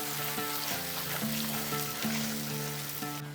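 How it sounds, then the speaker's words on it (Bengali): Turmeric, Kashmiri red chilli and coriander powder frying dry in a pan for vegetarian khichuri, a steady close sizzle under a sustained tonal hum with periodic shifts in pitch. "এরপরে মশলাটাকে কষিয়ে নিচ্ছি"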